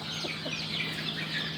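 A game bantam chicken clucks in a poultry farm, its short, sharp calls repeating over a steady background hum, close by with no talking.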